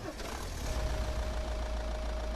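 A Volkswagen Crafter van engine in Euro Truck Simulator 2 idles with a low, steady rumble and a faint whine running through it.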